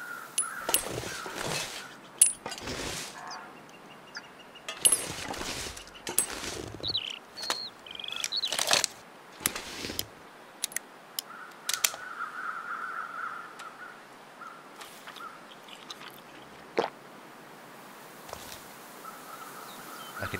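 Crows caw repeatedly in the distance across a quiet wilderness in the survival game The Long Dark, scattered harsh calls mixed with sharp clicks and light ambient noise.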